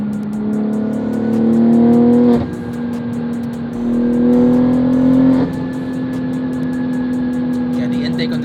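A modded BMW M3 G80 xDrive with an upgraded intake revs up twice, its engine note rising and then dropping back to a steady idle between pulls. The engine sounds close and fairly loud.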